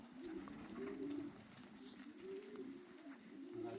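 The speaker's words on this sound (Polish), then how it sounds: "Mamy kolejnego gołąbka." Pigeons in a loft of racing young birds coo softly and repeatedly, giving a rhythmic, rolling call at close range with nobody speaking.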